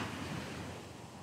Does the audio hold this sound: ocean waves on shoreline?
yes